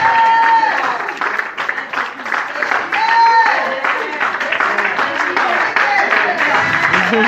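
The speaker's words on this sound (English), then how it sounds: "despite the hand that had not been working, our bishop was clapping" A bishop claps with both hands amid a lively church congregation, the applause blending into loud cheering and excited voices that stay close and continuous throughout.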